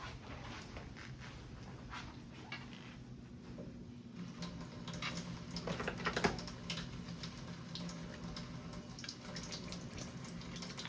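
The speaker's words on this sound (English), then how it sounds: "I'm gonna go ahead and just go ahead and wash my hands" Hands being washed with soap under a running tap, a steady wash of water flowing into a sink throughout, with faint rubbing and small clicks close by, no talking.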